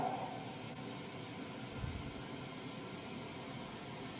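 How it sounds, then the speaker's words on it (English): A white noise box gives off a steady, faint, broadband hiss with a low rumble underneath, unchanging throughout and with no talking over it. "this is just a white noise box"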